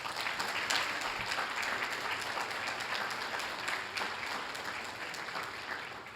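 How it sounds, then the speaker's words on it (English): An audience at the Southfield police awards ceremony gives steady, dense applause that fills the whole stretch and fades slightly toward the end. "Give them a round of applause."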